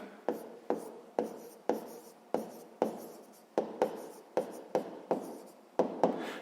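Pen or pencil writing out the check of a sixth-grade math equation on paper, about a dozen short strokes and taps in an uneven rhythm, close and clear, with no voice.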